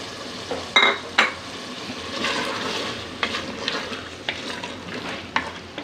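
Continuous sizzling of chana dal lentils frying in a pot with stirring scrapes and a couple of sharp utensil knocks early on, close and moderately loud.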